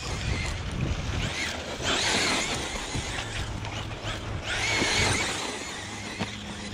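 A Traxxas Sledge RC truck fitted with a Hobbystar 1480kv motor runs outdoors, its motor whine rising and falling in surges under steady wind noise, with bursts of tire and gravel hiss at moderate distance.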